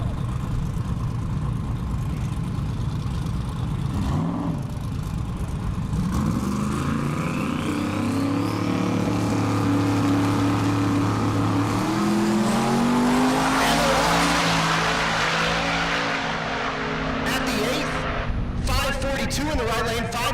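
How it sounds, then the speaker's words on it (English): Drag race cars launch side by side down an eighth-mile dragstrip at a Kansas race week, engines roaring loud and close with rising revs and brief tire squeal, over a steady announcer voice and crowd noise. "Boo Quamzo in the left lane going 8th mile racing"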